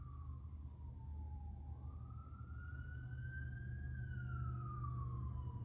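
A wailing emergency siren from fire, ambulance or police vehicles rises and falls in the distance over a steady low rumble of traffic, faint and muffled as if heard from indoors.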